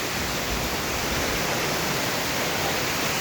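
A waterfall at the foot of sunlit hills pours in a steady, dense broadband rush of falling water that holds at an even level throughout, with no voices.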